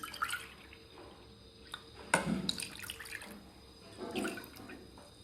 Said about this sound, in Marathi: आता यामध्ये घालायचं आपल्याला ताक.